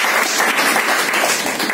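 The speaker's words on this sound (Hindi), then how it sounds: "बहुत तालियों के साथ प्लीज।" Dense, steady applause from an audience at a motivational speech event, a continuous wash of many hands clapping at close range with no talking over it.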